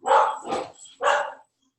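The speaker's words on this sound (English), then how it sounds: "there's going to be a dog in the background or somebody barking at some point" A dog barks close by, three sharp barks in quick succession followed by silence, with no talking over them.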